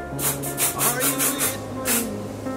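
Several quick hissing bursts of hairspray, short sprays in an uneven rhythm, close by.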